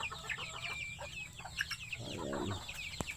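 A flock of chickens and small chicks cluck and peep in a farmyard, overlapping chirps and clucks coming at a moderate distance, with a low rumble of other clucking and one sharp knock near the end.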